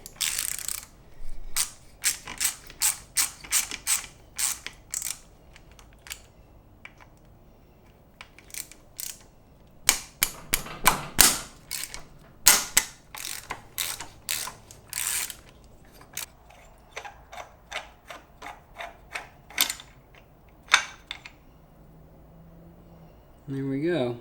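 A ratchet is worked on the 8 mm bolts holding the two brake caliper halves together on a BMW R100GS. It gives bursts of sharp, rapid clicks with pauses between them, close up, while someone talks in between.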